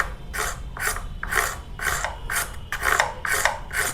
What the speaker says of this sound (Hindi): इस टाइप से हम चॉक को रब करते हैं उंगली संभाल कर